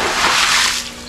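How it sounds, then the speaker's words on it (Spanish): A short splash and slosh of water being tipped out while draining a small pond of betta fish, a brief gush that trails off quickly, close by. "¿Se echa agua?"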